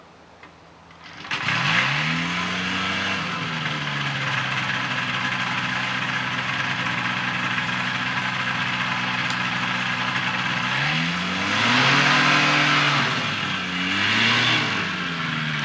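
A small single-seat ultralight aircraft engine, hand-started by pull cord, sputters to life, then drones steadily at a loud, buzzing pitch, revving up and down twice near the end.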